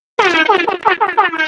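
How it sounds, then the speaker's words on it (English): A loud, blaring air horn sound effect, pulsing in quick repeated blasts for over a second after a moment of silence. "Where my air horn at?"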